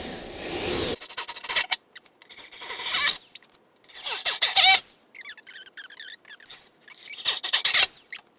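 A power drill bores into the body of a VW Westfalia bus while a heavy-duty spare tire mount is installed, giving several short, high-pitched whining bursts separated by brief pauses, each loud and close.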